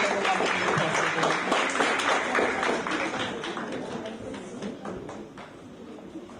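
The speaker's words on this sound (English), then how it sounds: "Yes, a round of applause for our sponsors." An audience at the Saltibus Combined School graduation ceremony claps together in a full burst that gradually softens and tapers away over several seconds.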